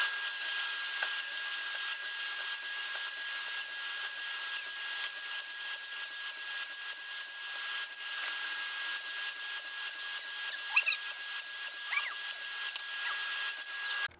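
A Makita 40V LS002G 216mm mitre saw cuts through a piece of 45 by 70 timber dunnage, giving a sustained, close, high-pitched whine and rasping cut with no talk.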